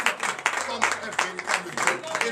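A congregation at a morning prayer service in Benin claps in a steady rhythm, with sharp beats spaced evenly about three times a second under a voice speaking over them.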